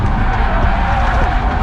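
A car drifting on a track, driven by a beginner learning to slide, its engine droning loudly and continuously with tires scrubbing and skidding as the back end swings around.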